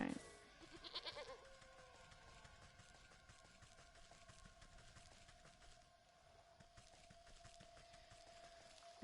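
A goat in the video game Wytchwood gives a short, faint bleat near the start, followed by quiet game ambience and a soft sustained musical tone.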